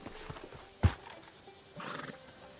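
A horse in the Red Dead Redemption video game clip-clops quietly, then gives one sharp hoof thud and a brief whinny, all faint with no speech.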